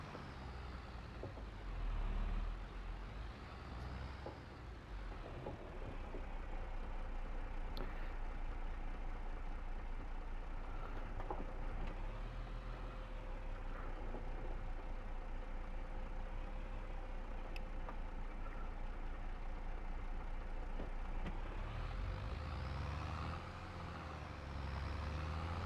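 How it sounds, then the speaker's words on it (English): A tractor engine in Farming Simulator 22 drones steadily during driving, a continuous mid-loud mechanical hum with faint rising and falling pitch sweeps. "back in our tractor, we'll get our water and"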